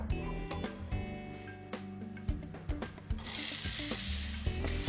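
Vegetables hit hot oil in a frying pan, starting with scattered taps and scrapes of stirring, then a close, steady sizzle that swells in the last seconds.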